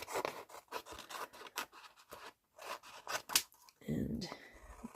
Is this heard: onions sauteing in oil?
no